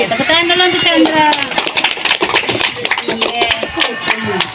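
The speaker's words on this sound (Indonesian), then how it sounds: "tepuk tangan dulu untuk Chandra" Students in a classroom clap for a classmate: brisk, scattered clapping from a small group, mixed with loud children's chatter and voices throughout.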